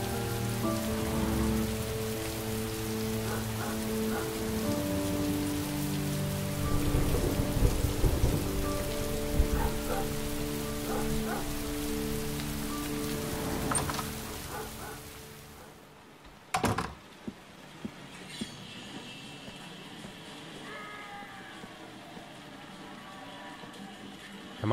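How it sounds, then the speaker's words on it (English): Rain in the game Heavy Rain Remastered, a steady downpour under an indoor musical score that cuts off with a door thump, leaving fainter rain and a few footstep-like knocks. "It's raining."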